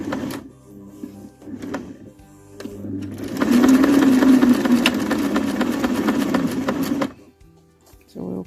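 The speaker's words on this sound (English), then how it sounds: "let's go to the sewing machine now" A sewing machine stitches a fabric scrunchie made from a dress hem. Steady mechanical whirring runs for about four seconds, with some softer handling noises before it and a short click after it stops.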